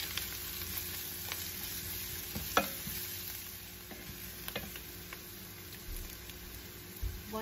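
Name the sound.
stirring spice mix in a pan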